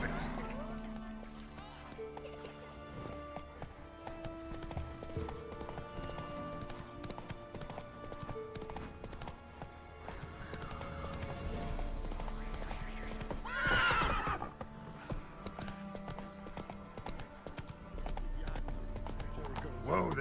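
Roach, a horse in The Witcher 3 video game, clip-clops along at a trot and lets out a loud neigh midway, over game music and ambient sounds, with voices heard.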